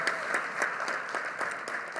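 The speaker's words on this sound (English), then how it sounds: "Give Governor Shapiro a huge round of applause." An audience at a Philadelphia school district State of Schools event applauds Governor Josh Shapiro, a steady, moderately distant wash of many hands clapping with a rhythmic pulse running through it.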